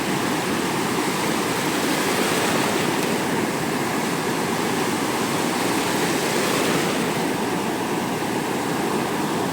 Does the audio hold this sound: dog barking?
no